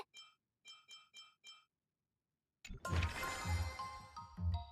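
Glass greatsword in the video game Honkai: Star Rail, four bright crisp clinks in quick even succession, then a pause before a dense shimmering burst of glassy ringing with heavy low thumps.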